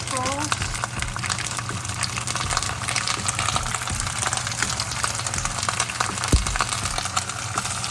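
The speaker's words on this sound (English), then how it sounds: "It can splatter a little bit because the moisture that's in the cabbage rolls." Cabbage rolls searing in hot oil, a continuous dense sizzle with crackling pops and splatters throughout, close and fairly loud, with a brief voice at the start.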